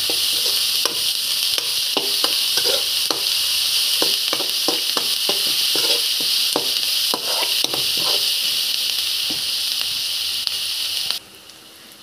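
Onions fry with a little salt in a pan for egg rice, sizzling steadily and loudly up close while a spatula stirs and scrapes in repeated taps until the sound cuts off.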